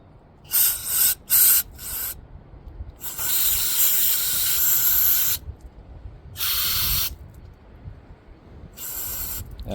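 Aerosol spray hisses in short bursts and longer blasts into the small passages of a Honda FL400R carburetor during a rebuild, close and loud with quiet gaps between.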